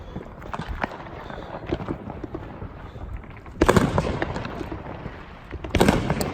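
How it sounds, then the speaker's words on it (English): Backyard fireworks go off in two loud, close bursts a couple of seconds apart, each a sharp crackling blast over quieter outdoor background noise. "We recorded some of our fireworks because we wanted to show our art friends."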